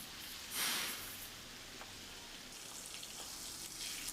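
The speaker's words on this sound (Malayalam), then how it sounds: "ആ ഒരു എണ്ണയിലോട്ട് തന്നെ നമ്മൾ ചിക്കനും കൂടി ഒന്ന് ഫ്രൈ ചെയ്യാണ്." Chicken pieces frying in hot oil for a biryani, a steady close sizzle and crackle with a brief louder burst of spitting near the start and no talking.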